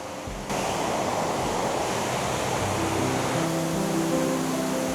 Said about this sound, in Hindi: ये रहा वो स्ट्रीम। को साउंड भी सुनाई दे रहा होगा काफ़ी अच्छे से।